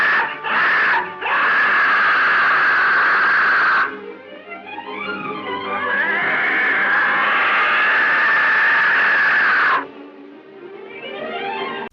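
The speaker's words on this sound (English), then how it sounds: "creepy noises, like that vulture screeching sound" Vulture screeches from the 1932 horror film White Zombie: loud, sustained shrill cries that stretch for seconds, then waver and bend in pitch before a final long screech, with no talking.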